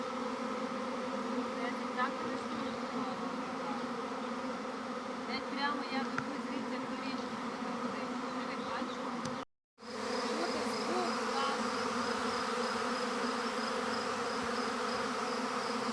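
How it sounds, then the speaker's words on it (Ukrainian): A swarm of honey bees in a forest hums as a dense, steady buzz that fills the whole stretch, close and continuous, with one brief dropout partway through. "Привівся рій."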